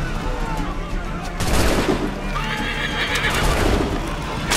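A horse neighs in Assassin's Creed 3 gameplay, a loud whinny rising over hoof clatter and bursts of gunfire in a busy battle mix.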